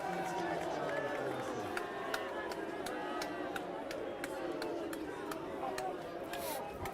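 Imperial supporters at a men's varsity rugby match grumble and call out in a steady, dense crowd roar after a referee's free-kick decision, with sharp claps and shouts cutting through and commentary running over the top.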